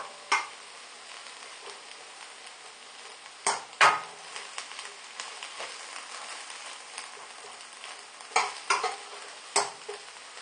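Pork is stir-fried in a seasoned pan: a quiet sizzle runs underneath while sharp scrapes and clinks of a utensil against the pan come in irregular bursts, with no talking.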